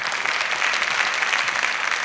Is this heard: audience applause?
yes